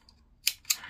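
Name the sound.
scissors cutting knitting yarn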